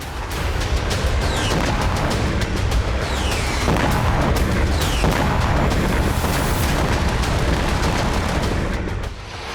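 Russian missile strikes on Ukrainian cities raise a dense, continuous roar of blasts and booms lasting nearly ten seconds, with sharp cracks and rumbling impacts layered over a heavy low-frequency wash.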